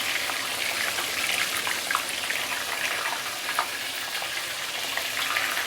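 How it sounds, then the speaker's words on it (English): Fish deep frying in hot oil over high heat in a pan, a steady, dense crackling sizzle with scattered pops, continuous and close throughout. "So basically you want to deep fry the fish until fully cooked."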